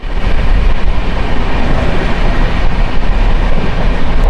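A Sambalpur–Erode special train passes very close and loud, its wheels rumbling and clattering in a steady, unbroken roar with faint rhythmic clicks along the rails.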